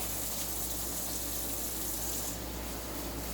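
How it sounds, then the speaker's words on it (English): Steady tap water runs into a sink while arugula is rinsed in a home kitchen, a continuous close, even hiss of flowing water with no pauses. "We're rinsing the arugula."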